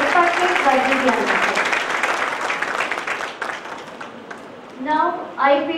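Applause for Rajeev Biyani at the BICON 2015 inauguration ceremony, a dense crowd clapping for about four seconds and then thinning out, with a voice speaking over the tail as the clapping fades.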